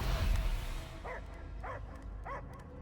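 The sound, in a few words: Cosmo the dog barking in Guardians of the Galaxy video game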